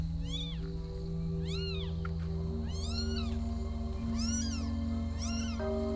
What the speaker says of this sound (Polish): to brzmi jak jakiś przerażony mały kotek chyba